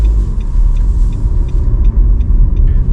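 A car drives along the main street of a lakeside town in Chile, a loud, close, low engine and road rumble that runs steadily with faint high ticking above it.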